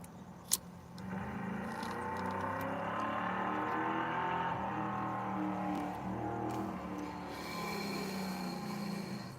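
Dodge Hellcat with a 454 engine revving steadily, a loud sustained engine roar with rising and falling tones, opening with a brief sharp click before the engine swells.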